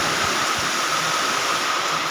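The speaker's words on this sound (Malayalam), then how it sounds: "നല്ല കാറ്റാണ്." Strong wind gusts roar through heavy rain near a tarpaulin, a dense, constant broadband rush without pause, loud and close, with no voices.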